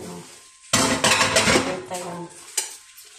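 Plates and dishes clatter and clink as they are washed, a burst of loud close crockery knocks and scraping followed by quieter rattles and one sharp clank.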